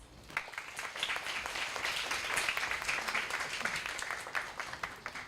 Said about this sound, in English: Let us give her a warm round of applause